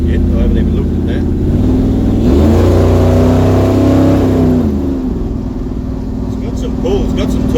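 A Chevrolet 383 engine in a car accelerating under load, its deep engine note rising and falling steadily through the run, loud and close, with a voice speaking over it.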